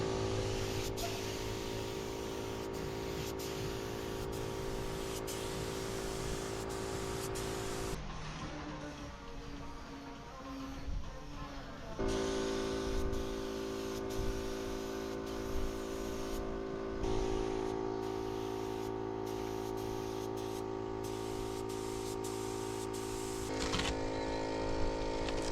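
Spray painting a boat outdoors on a hot, windy day: a steady, humming, whining drone from the spray equipment runs in long stretches, broken by several pauses and shifts in pitch, with no talking.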